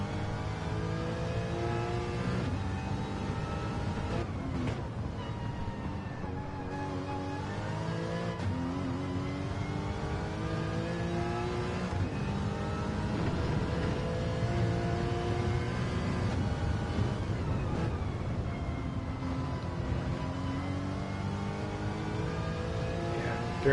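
Porsche Gr4 race car engine in a racing video game, revving and shifting steadily through gears with rising and falling pitch sweeps, loud and continuous throughout with brief lifts between accelerations.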